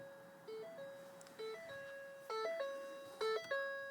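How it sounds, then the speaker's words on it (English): A 2009-2010 Ford F-150 door-ajar chime repeats a two-note electronic pattern about four times at steady intervals, clear and fairly quiet inside the truck, with no talking. "As you can hear the chime come on"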